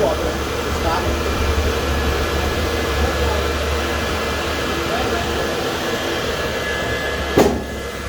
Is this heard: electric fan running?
yes